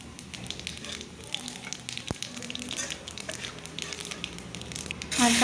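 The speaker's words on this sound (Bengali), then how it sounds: "মাছ ভাজা তেলে আমি গোটা জিরে দিয়ে দিচ্ছি ফোড়নে।" Whole cumin seeds crackle and sizzle in hot oil left over from frying fish, a steady close spitting with scattered pops that swells louder at the very end.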